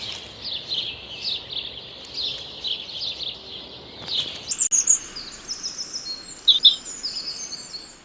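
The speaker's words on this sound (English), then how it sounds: "And the bird song is fantastic." Garden birds sing at a show garden in Bridgemere, with faint distant chirps at first, then brighter, closer tweets and short trills in the second half over a soft outdoor background.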